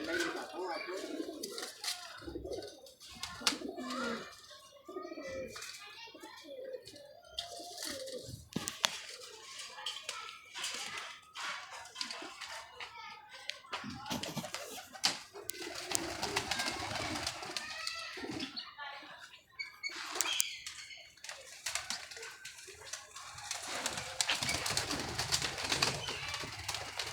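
Several blind-line pigeons coo in a home loft, with overlapping throaty calls and flutters. Voices talk intermittently over the birds, which carry on close by across a busy, uneven stretch.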